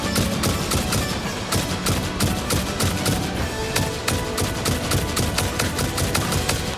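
Rapid automatic gunfire fills the whole stretch during combat in the video game Satisfactory, a dense, steady rattle of sharp shots with no talk over it.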